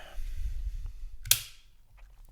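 An FN 509 Compact Tactical pistol being checked to confirm it is unloaded: quiet handling rustle, then one sharp metallic click of the action, followed by faint small clicks.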